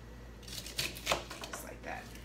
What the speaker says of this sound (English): we're going to cut these into bite-sized pieces